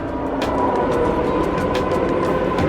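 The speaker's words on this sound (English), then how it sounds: "Ooh, I hear the train." An RER train passes near Disneyland Paris, rumbling with a steady low roar and rhythmic clacks from the wheels over the rails, continuous and fairly close.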